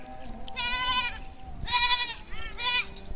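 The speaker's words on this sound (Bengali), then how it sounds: "প্রিয় দর্শক, এই যে দেখেন ছাগল, ছাগলের মধ্যে নাপ বেশি।" A goat bleats three times in quick succession, fairly close and clear, with someone talking around the calls in a rural yard.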